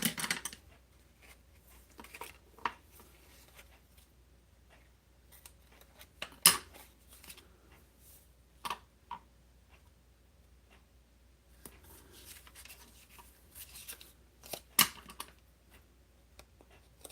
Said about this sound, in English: we'll cut some cardstock in a minute